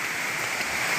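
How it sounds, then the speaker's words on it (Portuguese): Water runs constantly in a stream feeding a river, a steady close rushing and splashing wash that fills the whole moment with no break or voice. "Ó, aí é água 24 horas correndo."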